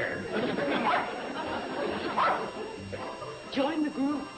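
A frightened dog yips and whimpers in short bursts amid background chatter, the barks sharp and intermittent, fairly close under the voices.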